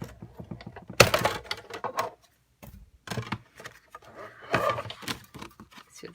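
Hand-cranked die-cutting machine rolling paper and stamps through in uneven bursts of clicking, rattling mechanical noise with brief pauses, close and moderately loud.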